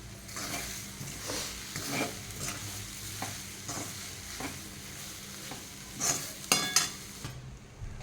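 Soybean filling for soybean paratha fries in a pan while a spoon stirs it, leaving a soft sizzle under repeated scraping strokes and a few louder clatters near the end, close and fairly quiet, with no talking.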